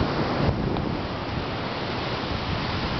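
Ocean waves wash steadily onto a rocky beach, a constant close surf roar with wind buffeting the microphone and no talking.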